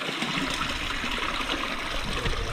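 Water rushes and trickles steadily through a glowworm cave, a continuous close wash of flowing sound with no pauses or voices.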